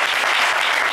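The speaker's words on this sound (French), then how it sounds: "Et ça s'applaudit encore plus fort" A TV game show studio audience applauds a finalist, a brief, dense and loud wash of clapping that is continuous throughout.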